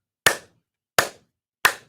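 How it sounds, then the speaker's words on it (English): Three sharp single hand claps, evenly spaced and isolated in silence, made at the start of a recording session to line up the audio tracks. "clap"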